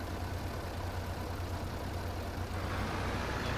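A tractor engine in the Farming Simulator 22 video game drones steadily at idle, a low continuous rumble with no breaks.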